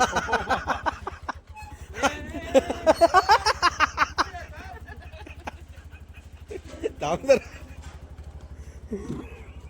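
A motorcycle engine idles and revs with a steady pulsing throb close by while gears are shifted, and people talk and laugh over it.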